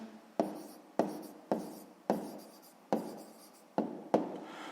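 A pen writes a sixth-grade maths answer by hand on paper, making seven short scratching strokes, each starting with a sharp tap and fading out, close and quiet.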